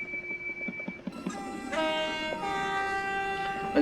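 A train in the Roblox-style railway game Stepford County Railway pulls away from a platform, with a tonal horn or whistle sounding over a low rumbling rail hum; no one speaks.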